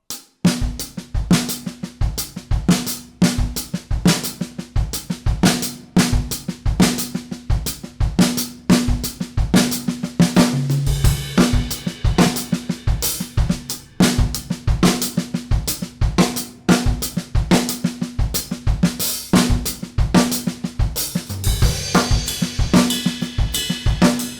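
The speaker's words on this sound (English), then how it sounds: "So this is the songo as 16th notes on your PDF." A drum kit plays a salsa songo rhythm in steady, busy sixteenth-note patterns with kick, snare and cymbal accents, close and continuous with no talking.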